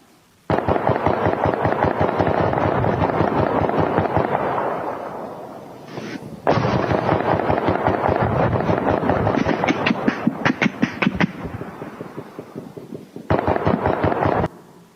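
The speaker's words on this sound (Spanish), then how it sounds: "Escuche y vea la potencia de los disparos." Long bursts of rapid automatic gunfire crackle in dense volleys, pausing briefly and resuming, loud and sustained.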